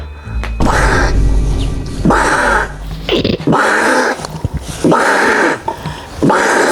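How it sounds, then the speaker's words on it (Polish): Cat-like yowls from a video game, about five loud, harsh, drawn-out cries repeating in a steady rhythm close up. "Jakiś dźwięk jak kot."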